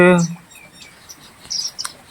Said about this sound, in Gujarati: આ ચકલા આવે છે અત્યારે ખાય છે